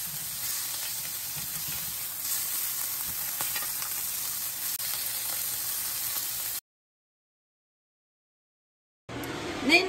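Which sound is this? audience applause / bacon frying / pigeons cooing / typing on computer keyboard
bacon frying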